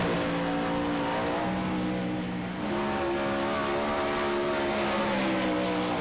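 A sprint car on the dirt oval at Williams Grove roars loud and close under full throttle, its engine note holding steady with a brief dip midway, then climbing again as the driver stays on the gas.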